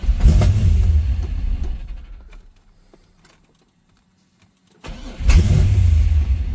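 A faulty rebuilt Corvette turns over as its starter button is pressed, a loud, close burst of cranking engine noise that dies into near silence before a second strong cranking burst returns, with no talking.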